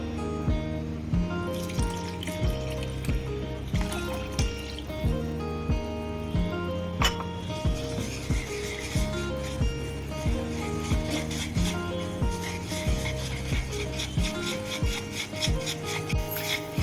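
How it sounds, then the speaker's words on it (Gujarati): Milk being stirred into an ice halwa mixture in a pan, heard as a regular rhythmic scraping and rubbing of a spoon against the pan, repeating strokes at a steady pace over music-like tonal background, with no speech. "દૂધને પણ વ્યવસ્થિત મિક્સ કરી નાખવાનું."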